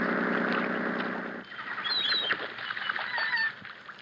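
Seagulls call on an island in an old radio drama scene: a sustained tonal drone fades out, then several short, high cries and squeals rise over a soft background, moderately loud and without talk.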